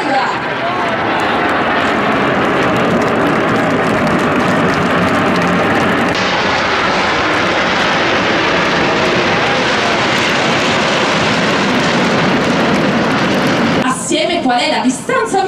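Frecce Tricolori jet aircraft flying an air show manoeuvre at Jesolo, a loud continuous roar of jet engines that shifts in tone midway, with an announcer talking over it.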